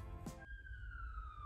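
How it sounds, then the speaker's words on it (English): A siren wails far off across London, a faint rising whoop followed by a steady high tone over a low hum of room noise. "Excuse for sirens. We are in London after all."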